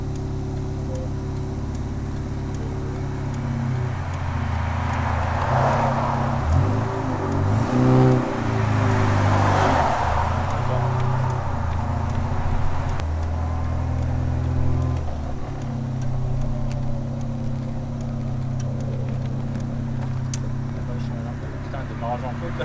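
A Morgan 4/4's engine idles and revs during a hill start, a steady mid-low drone that swells briefly around the middle, with people talking over it inside the car.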